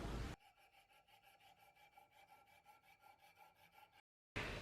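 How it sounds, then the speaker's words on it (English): A file is drawn repeatedly along the spine of a steel knife to round it off, giving a close, even rasping rhythm of about twenty strokes before a short silence. "I'm going to take the files to the spine and round that off."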